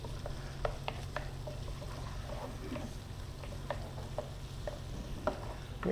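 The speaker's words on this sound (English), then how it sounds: "you should be hearing a nice little sizzle" Shrimp sizzle in a hot frying pan with a steady, soft crackle and occasional sharper pops and stirring scrapes, heard close but fairly quiet and without talk.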